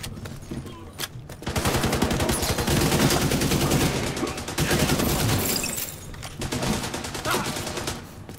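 Sustained bursts of AK rifle fire from The Division 2 combat, loud rapid shots running almost continuously with brief pauses, layered over dense battle noise.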